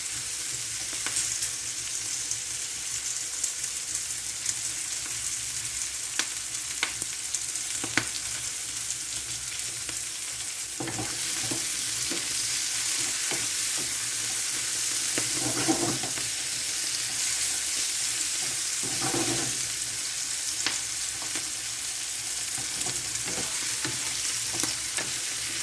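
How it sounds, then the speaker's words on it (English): Vegetables and pork sizzling in a hot pan during a stir-fry, a steady loud crackling hiss throughout with occasional stirring scrapes and faint kitchen clatter. "leave that to cook for a bit."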